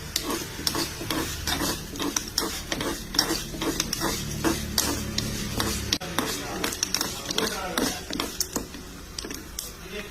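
Curry leaves and lentils sizzle in a pan for a tempering, with a softer frying hiss broken by repeated scraping stir strokes in an uneven rhythm, while a voice talks in the background.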